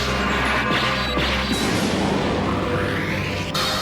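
A loud, sustained crash effect for a sword-slash attack by Blackluster Soldier in the Yu-Gi-Oh! anime: a dense burst of impact noise with swooshing layers runs continuously for several seconds and fills the foreground.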